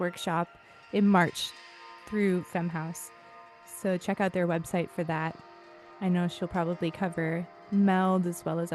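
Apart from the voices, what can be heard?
No everyday noise stands out behind the speech.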